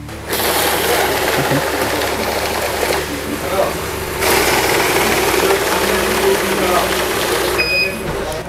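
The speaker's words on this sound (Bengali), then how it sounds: "3টাই টাকা গোনার মেশিন, ঠিক আছে?" Bill counting machines whir and flutter loudly as they run banknotes through, a dense mechanical rattle that pauses briefly near the middle and then resumes. Some faint background voices may sit underneath.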